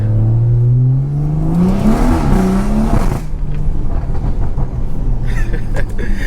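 A BMW 340i in Sport Plus mode accelerating hard, the engine note climbing steadily in pitch through the revs, then a gear shift and continued loud, close cabin engine roar.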